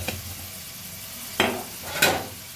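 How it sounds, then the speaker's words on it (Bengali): Cumin, coriander and chili powder being fried in a pan for chicken khichuri: a steady low sizzle with a few sharp scraping stir strokes, close and fairly quiet, no voices. "এবার এই মশলা দিয়ে এটা ভালো করে কষিয়ে নেব।"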